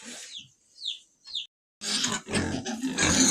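Several short, high squeals from piglets come first, then a burst of loud, rough grunting and snorting from pigs close by in a pigsty.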